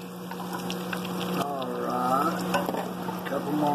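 Salmon patties, also called fish cakes, fry in oil in a cast iron skillet, a steady close sizzle and crackle with a constant low hum underneath and a few small clinks.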